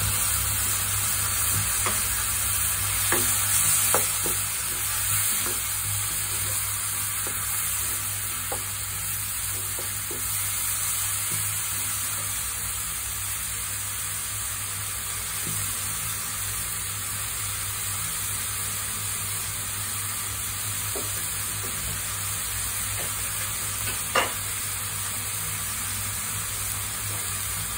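Grated tomato sizzling in a frying pan during a spinach baked macaroni recipe, a steady dense hiss with faint stirring clicks, continuous and close under a constant background whine, one brief spoken word at the start.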